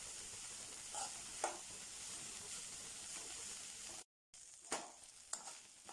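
Sliced onions with salt sautéing over a medium flame for spicy chicken samosa filling, a steady broad sizzle with a few soft stirring scrapes and a brief dropout partway through.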